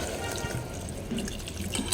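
Water pours steadily into a pressure cooker for rice, a continuous close splashing, gurgling flow at moderate level.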